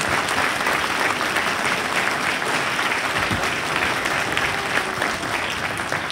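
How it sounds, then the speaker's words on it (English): Sustained audience applause fills a school district event hall, dense and steady clapping from many people for about six seconds with no break. "Give them a round of applause"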